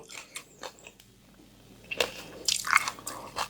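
Crispy angel-wing jellyfish being bitten and chewed up close, with soft squishy crunches early on and louder, sharper crunching bursts in the second half, no talking.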